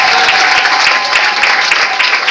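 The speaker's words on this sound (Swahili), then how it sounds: "Pigie Bwana Yesu makofi" A church congregation at a service in Moshono claps steadily and densely for Jesus, a loud, continuous wash of many hands with no pauses.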